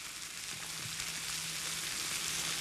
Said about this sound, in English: We're going to add a little bit of green onion, or which is also called scallions. So we'll add some green onion to this.